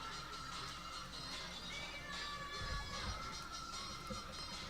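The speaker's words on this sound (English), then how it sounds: "there is a buzz in the crowd here" A softball crowd buzzes in the stands during a college conference game, a faint steady murmur of many voices with a few higher shouts rising above it.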